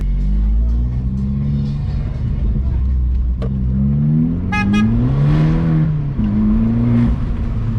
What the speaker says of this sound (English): The downshift sounds so good with the flappy paddle.